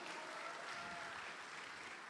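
Sustained applause from a large audience of people from North Sumatra at a public gathering, dense and steady throughout with no talk over it.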